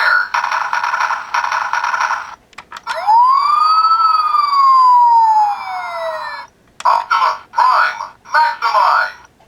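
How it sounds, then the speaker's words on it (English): A toy Optimus Prime super-class Transformers Robots in Disguise figure plays an electronic siren sound effect, one loud rising-then-falling wail, bracketed by bursts of noisy electronic sound before and after. "we get a siren that goes on for 3 times and a siren that goes on for 1 time"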